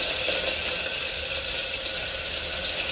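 Cumin seeds, curry leaves and garlic fry in hot oil, giving a loud, steady, close sizzling hiss that carries on unbroken without any talk.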